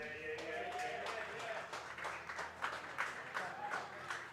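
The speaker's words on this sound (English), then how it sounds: "Give them a round of applause as they come onto the field." A crowd at a Major League Sixes cricket match claps as the Sydney Seahawks and Melbourne Makos players come onto the field, with fairly quiet, rhythmic applause and faint voices mixed in throughout.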